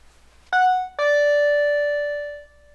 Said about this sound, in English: Here is an example of using the 12-volt output along with the chime at the same time.